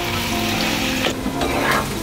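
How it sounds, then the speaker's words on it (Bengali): Onions frying lightly in a little oil for Mughlai paratha, a steady close sizzle with faint stirring scrapes, no voices. "একটু পেঁয়াজটা হালকা তেলে ভেজে নিলে আর কি ওটা ভালো লাগবে"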